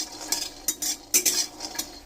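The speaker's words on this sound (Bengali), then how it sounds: "আগে বাদামটাকে ভেজে নেব।" Peanuts are fried in a pan with a spoon or spatula scraping and clinking against the metal in short, uneven strokes, and a faint sizzle sits underneath.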